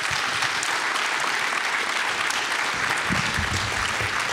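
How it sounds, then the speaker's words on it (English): A live debate audience gives its panelists a dense, steady round of clapping that fills the whole stretch at even loudness, with no voices above it. "Can we have a round of applause for our panelists, please?"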